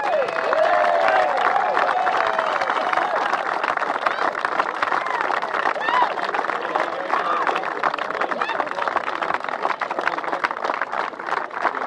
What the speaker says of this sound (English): I want to give a fantastic round of applause for John and Michael Pickford